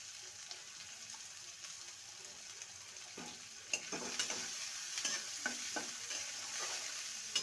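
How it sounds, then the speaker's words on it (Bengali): Chopped onion frying lightly in a pan for a bitter gourd curry, a steady soft sizzle with a few short scrapes of stirring, fairly close and moderately quiet, no talking. "পেঁয়াজটাকে হালকা ভেজে নেব।"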